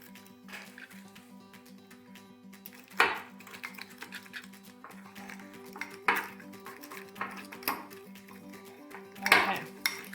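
A spoon stirring honey cinnamon butter spread in a bowl, with soft scraping and a steady run of metallic clinks against the dish, punctuated by a few louder knocks, close up and without talk.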